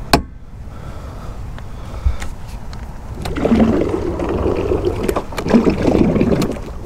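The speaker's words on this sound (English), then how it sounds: "You got a trolling motor in the front," Trolling motor mounted at the front of a small fishing boat on a clear pond, giving a low steady whir with water churning that swells after a few seconds, accompanied by scattered knocks and bumps on the hull.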